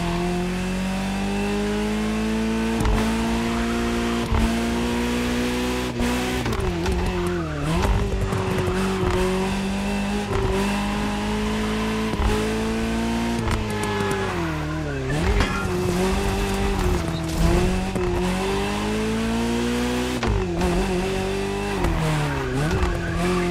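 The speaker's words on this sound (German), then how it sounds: "Es geht wieder aufs Motorrad." A KTM 450 motorcycle races in The Crew Motorfest video game, its engine holding a steady high whine that rises and dips through gear changes, with tire squeals and skids over about 24 seconds and no talk.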